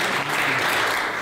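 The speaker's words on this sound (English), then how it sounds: "Applause for him." Audience applause for a winner announced during a sporting journal radio show's 500th episode retrospective, a brief steady burst of clapping with no one talking over it.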